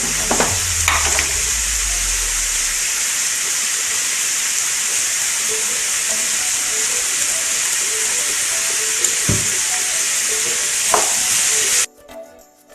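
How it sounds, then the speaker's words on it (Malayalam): Chopped tomato sautéing in a pan for a spicy mutton pepper fry gives a loud, steady, close sizzle that opens with a burst of stirring and a low rumble, shows occasional clinks, then cuts off abruptly near the end. "ഇതിലേക്ക് ഒരു തക്കാളി അരിഞ്ഞിട്ട് ചേർക്കുകയാണ്. ഇതൊന്ന് വഴന്ന് വരട്ടെ."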